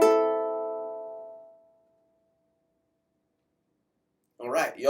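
A single ukulele strum across all open strings rings out and fades over about two seconds, followed by silence and then a brief voice.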